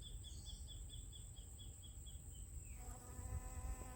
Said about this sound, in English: Oh, the bees loving it in there.